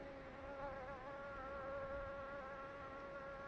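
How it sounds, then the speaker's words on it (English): Several bees buzz steadily around overripe bananas outdoors, a faint continuous wavering drone that carries on unbroken with no talk. "there's several bees that are definitely going for"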